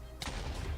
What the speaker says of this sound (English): Unstable ingot explodes in, and this is probably going to kill me.